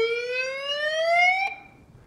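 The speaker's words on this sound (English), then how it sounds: "It does have a really, really loud siren," A Pyle PMP53IN piezo dynamic megaphone sounds its siren: a single loud, rising electronic wail that cuts off abruptly after about a second and a half, leaving brief faint residue.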